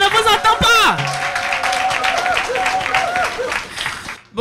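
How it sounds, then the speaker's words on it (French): A crowd of women at an outdoor community health event in Marcory claps continuously, with shouting voices, whistles and a voice talking over the applause. "Est-ce qu'on peut s'applaudir très fort?"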